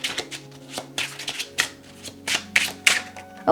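Tarot cards are shuffled by hand close up in quick, flicking riffles and soft slaps, coming in uneven bursts with short gaps.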